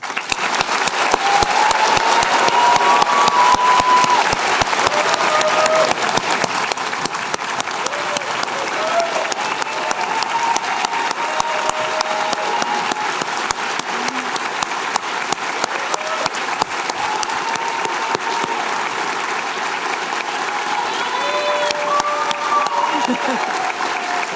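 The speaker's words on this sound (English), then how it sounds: "let's take a moment to applaud all of the 2020 and 2021 graduates" Sustained applause from a large crowd at a Harvard Medical School PhD hooding ceremony, steady and dense clapping throughout, with occasional cheers rising above it.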